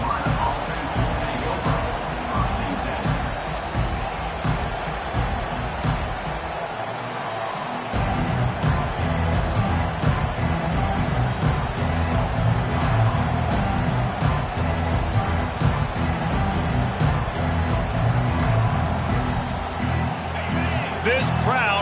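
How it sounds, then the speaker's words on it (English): A college football stadium crowd roars as a steady, loud wall of noise that lasts throughout, with a commentator talking over it. "This crowd bringing an ear-splitting welcome to their visitors"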